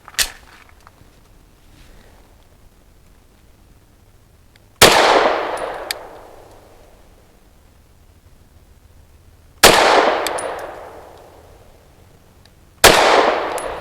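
A KOR FX-9 pistol fires Punig 110 grain rounds at steel targets: three sharp, loud reports several seconds apart, each followed by a short ringing clang and decay, after a faint initial shot.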